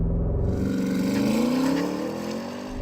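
A Porsche Cayenne Turbo GT with an 8-speed automatic and all-wheel drive launches hard under launch control, its engine note climbing steadily through the rev range, loud and close, without any voices.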